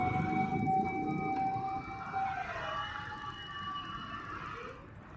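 A loud wailing fire truck siren sweeps steadily at first, then fades and lowers in pitch as the truck moves away.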